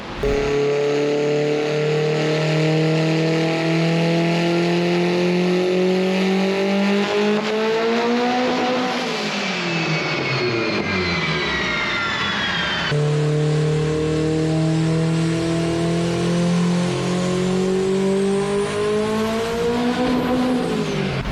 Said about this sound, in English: once we got above 50 psi, bam, we blew another head gasket.